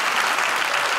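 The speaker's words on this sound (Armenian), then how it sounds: "եկեք ծափարենք բարձր մեր երաժիշտերին" An audience applauds musicians at a live concert in Yerevan, a steady, dense wash of clapping from many hands that fills the whole moment without pause.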